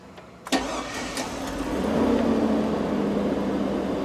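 A Chevy Suburban engine cranks with a sharp catch and fires up, then settles into a steady, close running rumble that grows slightly fuller, with no talk.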